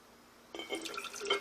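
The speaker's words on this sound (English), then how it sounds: "I'm going to go ahead and bottle that one up too" Homemade plum juice pours into a bottle, a quiet splashing trickle starting after a brief silence and turning to bubbling glassy filling sounds near the end.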